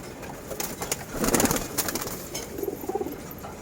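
Pigeons coo repeatedly close by, several soft throaty calls overlapping, with bursts of wing flutter and rustling in between.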